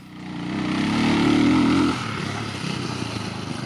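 A small engine buzzes close by, rising to a strained whine before dropping to a rougher, choppier idle as it rolls along.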